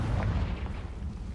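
A Bombarda or Confringo spell explodes in the game Hogwarts Legacy with a brief, dense, loud blast of rumbling crackle that stays fairly steady through the moment, with no speech over it.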